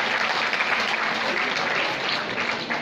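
Audience applause at a school prize distribution for an inter-school one-act drama competition, a dense steady clapping from a large crowd filling the room, with a voice faintly mixed in.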